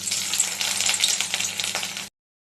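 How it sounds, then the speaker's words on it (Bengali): Cauliflower florets frying in hot oil in a pan, a steady close crackling sizzle that cuts off abruptly, with no talking. "ফুলকপিগুলো একটু গরম জলে এবার ভেজে নেব"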